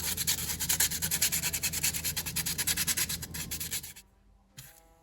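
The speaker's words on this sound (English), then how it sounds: "it's got some really jagged, rough edges, so I'll get this sanded." Rough edges of a Dollar Tree wooden ornament are sanded with 100-grit sandpaper, a close, steady run of rapid scratchy back-and-forth strokes that stops abruptly near the end, leaving a few faint handling sounds.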